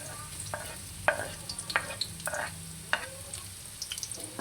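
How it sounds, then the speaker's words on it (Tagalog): Onion and garlic sauté in hot oil in a pan: a soft constant sizzle, broken by several sharp scrapes and clicks as a spoon stirs, close by and without speech. "Then, maglalagay ulit tayo ng mantika. Then, igigisa natin ang ating sibuyas. Kasabay na natin ang ating bawang."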